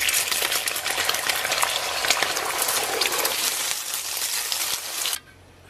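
Eggs hit warm oil in a wok with pork belly, letting off a loud, dense crackling sizzle that runs steadily for several seconds and then cuts off abruptly.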